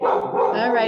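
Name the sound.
pet dog barking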